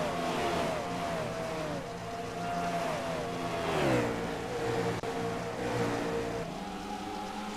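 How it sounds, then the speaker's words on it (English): Race cars on an oval track drone loudly into a corner, with several engines overlapping, the pitch dropping as they brake and rising again on the throttle, and a continuous roar throughout. "as they run just in front of your leader, Josh Berry, who goes into corner number 3 right now"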